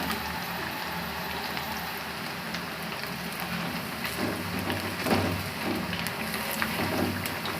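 French fries deep-fry in hot oil, a dense steady crackle and sizzle that holds an even level throughout, close and with no voices.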